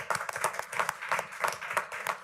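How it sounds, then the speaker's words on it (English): Short burst of scattered audience clapping at a community college board meeting, a few people clapping unevenly for a couple of seconds. "Let's give them a clap."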